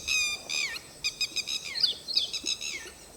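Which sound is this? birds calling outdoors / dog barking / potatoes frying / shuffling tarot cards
birds calling outdoors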